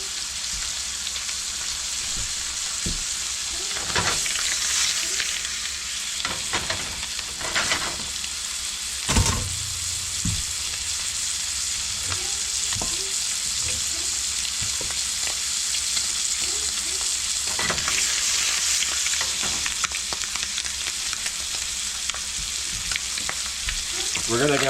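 Catfish fries in melted butter in a pan, producing a continuous loud crackling sizzle. Occasional sharper clatters and spatters rise over it throughout.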